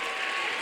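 Brief burst of audience applause at a stand-up comedy and music show, a dense wash of many hands clapping, loud and continuous for under a second.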